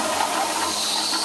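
A toilet flushes with a steady rushing, hissing gush of draining water, close and loud throughout this short stretch, with no voices.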